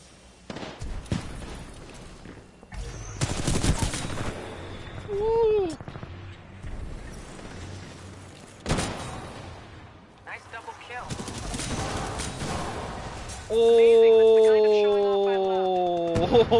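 Gunfire and explosions in the video game Titanfall 2, bursts of shots and blasts at irregular intervals mixed with game effects, loud and close, with someone talking over parts of it.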